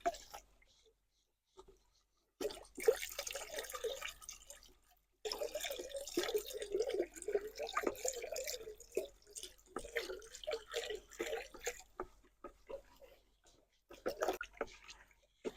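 Stirring a blue liquid spray mixture for protecting a garden from plant diseases, heard as bursts of sloshing, dripping and splashing liquid close by, separated by short quiet gaps, with no talking.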